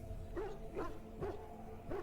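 Dogs in the video game Dragon Age Origins give short, evenly spaced barks and yips, a handful of them over a low ambient hum.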